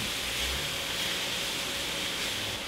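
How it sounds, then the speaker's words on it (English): Kitchen fan running steadily while beef cooks, a continuous broad whooshing hiss that stays close and even throughout, with no talk. "Turn on the fan."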